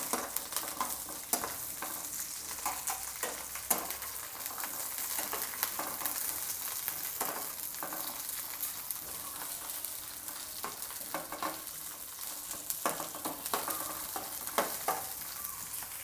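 Green chillies frying lightly in hot oil in a pan, a steady soft sizzle with occasional stirring scrapes and clicks, close and continuous with no talking.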